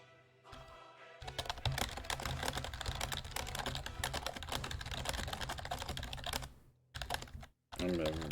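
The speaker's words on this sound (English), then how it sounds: "I'm typing bad" Keys clatter in a fast, continuous run on a computer keyboard, close and fairly loud over a steady background hum, with brief gaps near the end.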